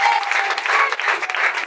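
A church congregation applauds and claps for Jesus in steady, dense, continuous applause that fills the whole stretch, close and loud, with a few faint voices mixed in.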